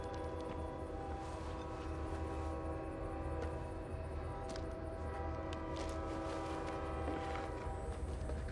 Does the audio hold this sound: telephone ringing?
no